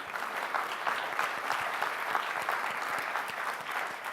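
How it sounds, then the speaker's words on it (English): Steady audience applause at a summit panel discussion on refugees, many hands clapping in a dense, even wash that holds for several seconds without a break. "A round of applause for that,"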